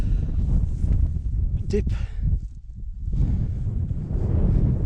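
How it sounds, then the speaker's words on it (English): Strong wind buffets the microphone on an exposed upland hill in the Southern Uplands, roaring loudly in gusts that briefly drop away midway, while someone speaks over it. "you're up on here, it's quite windy"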